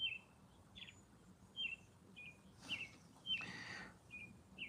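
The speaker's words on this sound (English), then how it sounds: "Mazel can hear the birds" Short, high bird chirps repeat every second or so over a low, steady background rumble, with a couple of brief rustling bursts in between.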